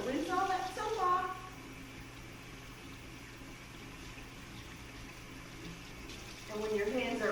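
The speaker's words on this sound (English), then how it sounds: "Then we rinse our hands, so rinse all that soap off." Tap water runs in a steady, soft hiss while hands are rinsed of soap, with a voice talking briefly before and after the flow.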